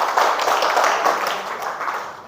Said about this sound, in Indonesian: berikan tepuk tangan sama si Aswin dulu.